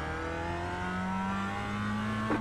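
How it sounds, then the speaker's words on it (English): Race car engine in the VR racing game Wreckfest, running steadily and droning loud throughout, its pitch slowly climbing as another car closes in, with a brief rising whine at the very end. "Car approaches. Watch your mirrors."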